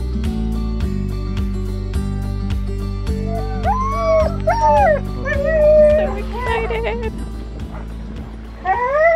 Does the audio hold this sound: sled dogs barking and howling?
yes